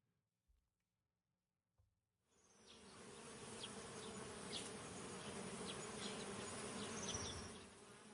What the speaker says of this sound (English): The bees were still buzzing as suspiciously as ever.